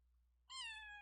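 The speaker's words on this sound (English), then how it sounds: "I have a kitten in my room" A kitten gives a single clear, rising-then-steady meow lasting under a second, close by and alone against a quiet room.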